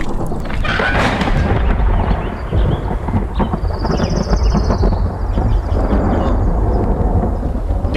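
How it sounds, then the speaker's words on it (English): Thunder from a big storm rolls and rumbles loudly and continuously, deep and heavy, with a long sustained crackle through the whole stretch. "big storm, lightning,"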